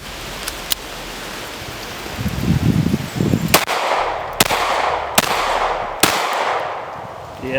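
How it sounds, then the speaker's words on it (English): A concealed carry handgun fires five sharp, separate shots at a steady pace outdoors over a background hiss, with a short rustle of handling before the first. "let me get a few shots on this"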